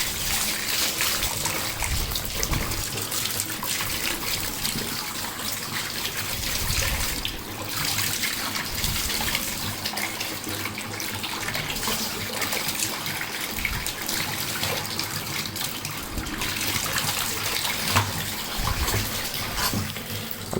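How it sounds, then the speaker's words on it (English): Tap water runs steadily over a cloth mousepad being rinsed, a loud, continuous close splashing and trickling that shifts slightly as the pad is moved under the stream, with no talking. "We're gonna rinse it a little bit more."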